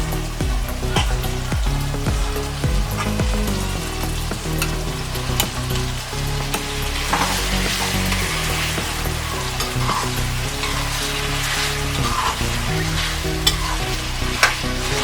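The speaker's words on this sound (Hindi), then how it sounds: "अब हम इसमें चिकन डालेंगे।" Chicken pieces fry with softened tomatoes in a pan for a restaurant-style chicken gravy, sizzling steadily and loudly while being stirred with repeated scraping strokes throughout, with no voices.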